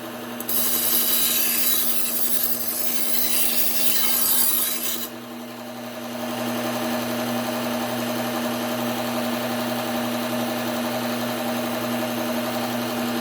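A belt sharpener grinds down the bolster of a kitchen knife: a loud, harsh abrasive rasp for about five seconds, then the motor keeps running with a steady hum and no talking.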